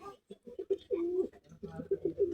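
A young pigeon gives close, low, rolling coos in short bursts, one of them drawn out, against a quiet background.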